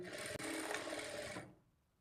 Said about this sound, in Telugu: ఈ మార్కింగ్ మీదనే స్టిచ్ చేసుకుంటే సరిపోతుంది